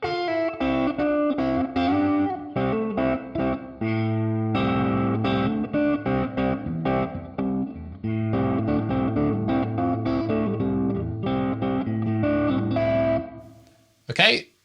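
An electric guitar plays through a digital amp with a large reverb setting. Rhythmic chords and notes wash out in long, spacious tails, then a voice briefly speaks at the end.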